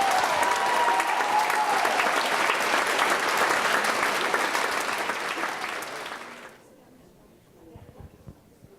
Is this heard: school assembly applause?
yes